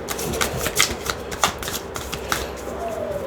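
Tarot cards are shuffled close up in a steady, papery riffle of repeated flicks and slides, loud and continuous throughout with no talk over it.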